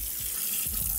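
Water runs steadily from a tap in a house, a continuous broad hiss filling the whole moment at close range with no talk over it.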